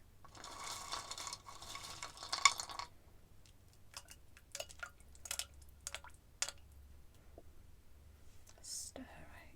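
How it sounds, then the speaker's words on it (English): Soft stirring in a wooden soup pot, with a long stretch of gentle brushing and scraping followed by scattered light taps and clicks, all close and quiet beneath whispered talk. "Stir, right? Yeah, I agree. Little stir."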